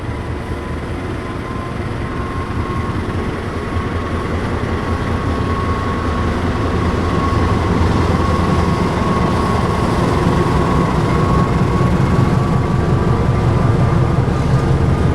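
Argo class Taksaka passenger train rolling through switches, a loud continuous rumble and rattle of wheels on track heard from on board, steady throughout with a faint high whine above.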